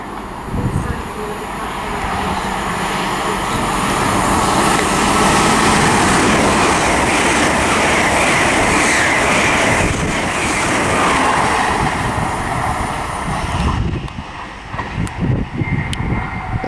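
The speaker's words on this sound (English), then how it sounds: "There's that one heading to Peterborough from Inverness." An LNER train from Inverness to Peterborough passes through Prestonpans station on the East Coast Main Line, a loud broadband rush and rumble that builds, holds and then falls away as the train clears.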